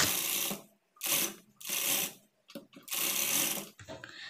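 A sewing machine stitches a blouse lining in four short whirring bursts separated by brief stops, close and fairly even in loudness.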